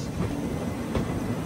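The Andaman Express rumbles past nearby as a steady, dense roar of rolling wheels and rail noise, continuous for the whole moment without talk.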